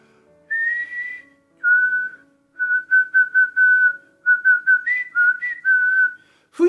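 Someone whistles a simple tune alone, with long held notes and quick repeated short notes, clear and close, ending with a brief click.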